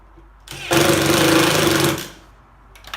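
Power drill driving a screw into a Fishski box, one loud close burst of whirring lasting over a second before it winds down.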